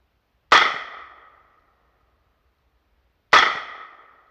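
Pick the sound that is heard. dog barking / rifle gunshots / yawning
rifle gunshots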